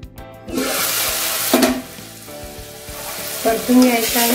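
Tomato and onion sautéing in a pan with a steady sizzle, broken by a few louder bursts of stirring and scraping, close and clear with no talking.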